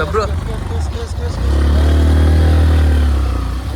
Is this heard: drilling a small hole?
no